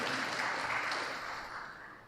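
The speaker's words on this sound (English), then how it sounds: "A big round of applause to him" Audience at a college panel discussion applauding a panelist, a steady wash of many hands clapping that slowly fades toward the end.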